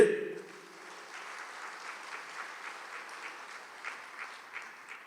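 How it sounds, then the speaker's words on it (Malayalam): A crowd claps steadily for several seconds after a speech, a dense patter of applause with small swells, heard from a moderate distance. "ഒന്ന് കൈ ഉയർത്തി കൈയടിച്ച്"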